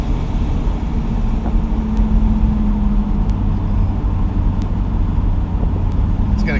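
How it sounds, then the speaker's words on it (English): A 1966 Ford Mustang with a 289 V8 idles with a low, steady exhaust rumble, close and constant, with no voices. "It's got a good sounding exhaust."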